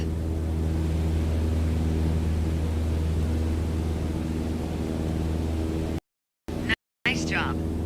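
A light aircraft engine holds cruise at about 2300 RPM in Microsoft Flight Simulator 2020, a constant droning hum with a faint hiss, briefly cut out near the end, where a short voice is heard.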